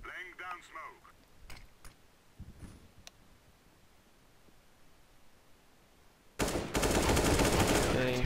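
Gunfire from a Counter-Strike: Global Offensive match: scattered clicks and short shots come first, then sustained loud rapid automatic fire breaks out for the last two seconds.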